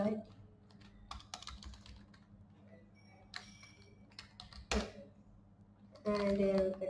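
Computer keyboard typing while coding in Sublime Text comes through as faint bursts of quick key clicks separated by pauses, set against a quiet room hum, with a louder clatter near the end.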